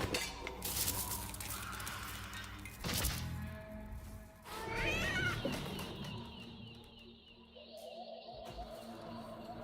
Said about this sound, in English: Okay, cats.